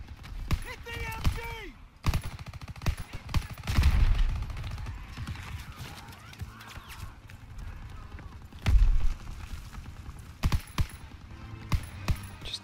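Bursts of machine gun fire in the World War II video game Call of Duty WW2 during a D-Day mission, sharp clustered shots and booms scattered through the scene with voices talking over the battle.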